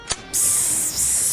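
A person's voice mimics an aerosol spray with a loud, sustained hiss that starts after a brief click, dips for a moment near the end and then carries on.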